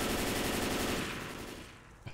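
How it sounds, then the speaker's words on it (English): M4 rifle gunfire in a multiplayer video game, a loud burst of rapid automatic shots that fades out over about two seconds, with no talk over it. "Just loud M4 gunfire, no big deal."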